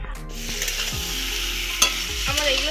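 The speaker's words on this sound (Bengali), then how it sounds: "সয়াবিন আর আলুটাকে কষিয়ে নেব।" Soybean chunks and potatoes sautéed in a pan with a steady, close sizzle, broken by repeated scraping stir strokes and one sharper clack near the middle.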